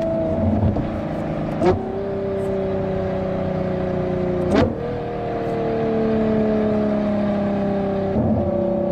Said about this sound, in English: if you do a downshift in a Ferrari V12